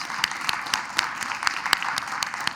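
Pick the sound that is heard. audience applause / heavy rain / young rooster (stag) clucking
audience applause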